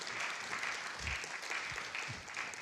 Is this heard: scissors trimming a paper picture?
no